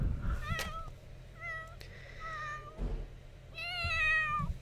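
Several drawn-out cat meows from a life-simulation video game, one after another, some rising and wavering, heard clearly over a low background hum.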